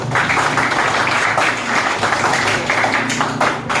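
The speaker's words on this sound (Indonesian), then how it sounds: "terima kasih, tepuk tangan dong untuk kelas ini" Students in a classroom applaud their class after attendance is taken, a steady wash of clapping hands filling the room without a break, near and fairly loud, with no talking over it.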